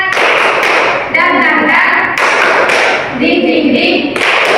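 A class of schoolchildren performs a rhythmic energising clap routine, tepuk semangat, with loud, close, patterned claps and thumps in repeating bursts, mixed with group chanting.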